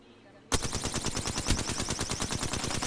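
Rapid automatic gunfire in the Apex Legends video game bursts in abruptly after a short quiet lead-in, then continues as loud, dense, sustained shooting to the end.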